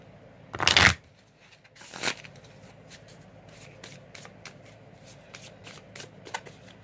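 An Alice in Wonderland tarot deck being shuffled: a loud, brisk riffle burst near the start, a second shorter shuffle, then soft scattered card taps and slides, close by in a quiet room with no talking.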